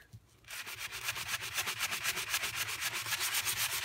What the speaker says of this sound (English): you can see it's definitely more sanding this time